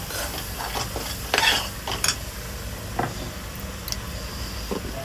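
Chicken croquette ingredients mixed in a bowl, with soft stirring scrapes and a few sharp utensil clinks against the bowl over a steady background hiss, no voices.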